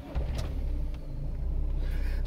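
An old, worn car called the Starlie, with knackered brake drums, is driven, its engine rumbling low and steady from inside the cabin with faint rattles and no talking.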